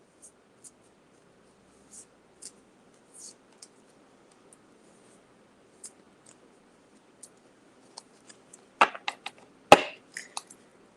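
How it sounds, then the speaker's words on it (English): Oracle cards being shuffled by hand at close range: sparse soft taps and riffling clicks spread out, then a quicker cluster of sharper flicks and snaps near the end, in an otherwise quiet room. "I think the oracle cards are sufficiently shuffled."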